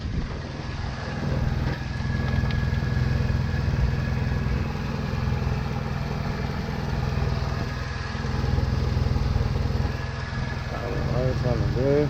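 The 2.2-litre engine of a 2002 Chevy Cavalier idles steadily, a continuous low rumble close by with voices faintly talking over it.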